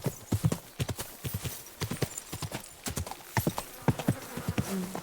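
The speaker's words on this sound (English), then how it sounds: "Eu vi o cavalo ali, cara." Horse hooves clip-clop at a steady walking pace in the medieval role-playing game Kingdom Come: Deliverance, crisp and close, with a faint snort and soft ambient insect buzz behind.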